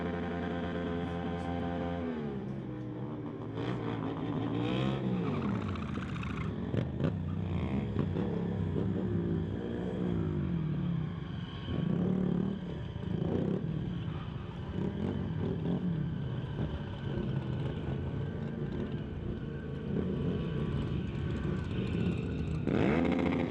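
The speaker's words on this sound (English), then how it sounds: "giving you some burnout action," Motorcycle stunt riders doing burnouts, wheelies and stoppies at a stunt show, engine revving and climbing hard with rising and falling tones, loud and continuous with crowd noise and a distorted PA underneath.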